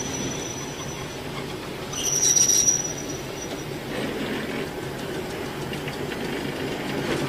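An NSE DC electric multiple unit rolls slowly toward a stationary train, wheels squealing sharply for about a second over a steady low rumble of running gear.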